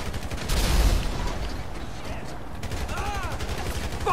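Rapid automatic gunfire rattles in a Grand Theft Auto 5 prologue mission on PS4, dense bursts blending with game noise and a few whooshing effects, loud and continuous across the moment.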